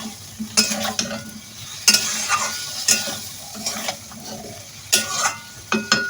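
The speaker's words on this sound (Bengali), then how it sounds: "কলা দিয়ে মশলার মধ্যে কলাটা ভালো করে কষিয়ে নেব" Raw green banana pieces stir-fried in a spicy masala, with repeated sharp scraping strokes of a spatula against the pan over a steady low sizzle, no voices.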